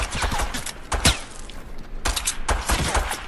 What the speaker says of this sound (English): Got a pistol he's shooting with